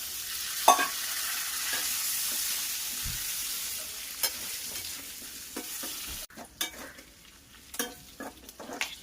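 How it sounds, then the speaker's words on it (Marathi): Boiled drumstick pods fry in spice-tempered oil, the sizzle hissing steadily while a utensil stirs and scrapes the pan in several distinct clatters that grow sparser toward the end. "आता ह्याच्यामध्ये आपल्या या शिजवलेल्या शेंगा टाकायच्या आहेत"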